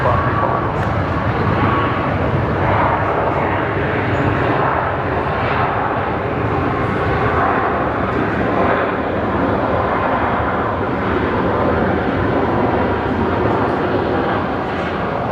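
A Qantas jet airliner on the runway at Brisbane Airport at night, its engines giving a loud, continuous broadband roar that holds steady throughout, with no talk over it.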